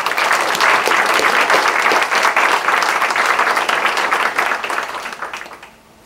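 A lecture audience welcomes a speaker with sustained applause, many hands clapping in a dense, even patter that holds steady for several seconds, then tapers off and fades out at the very end.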